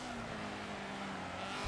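A Honda S2000 race car in the Forza Motorsport 7 video game holds a steady, droning engine note under continuous road and tyre noise, with a brief louder swell at the end.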